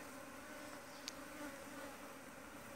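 A swarm of Korean native honeybees pours into a hive, making a steady, dense insect hum that fills the whole clip at a quiet level, with one brief sharp tick partway through.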